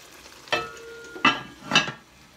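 Onion cooking in a pan for poulet yassa, with three distinct scraping stirs over a faint background sizzle.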